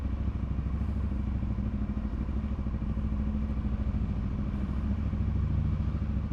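Budget motorcycle engine running steadily and close by, a continuous mid-pitched drone with light clatter and some thumping, with no talk over it.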